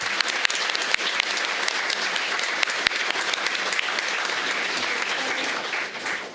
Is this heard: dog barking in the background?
no